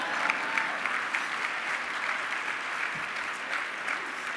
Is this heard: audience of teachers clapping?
yes